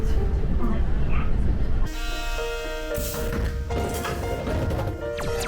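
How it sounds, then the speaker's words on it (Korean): Train horn sounding as a passenger train arrives at Ganggyeong station in Korea, one loud sustained tonal blast cutting over the rolling rumble of the carriages, with an onboard announcement voice heard beforehand. "우리 열차는 잠시 후 강경역에 도착합니다."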